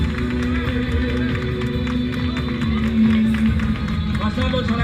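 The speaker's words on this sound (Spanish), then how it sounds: "Y ese fuerte aplauso para ellas, Sancho. Fuerte aplauso para ellas." Crowd at a race applauding and cheering amid steady outdoor babble, a dense continuous wash of claps and voices with an announcer talking over it.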